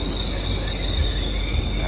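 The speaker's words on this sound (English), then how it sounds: "47-minute train ride, direct." Steel wheels squeal in a high, steady metallic whine aboard a direct Paris to Reims passenger train, over a heavy low rumble of the carriage, loud and close throughout with no talking.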